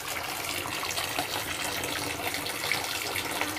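Steady water gushing from a broken tap, a continuous splashing rush at close range with no voices.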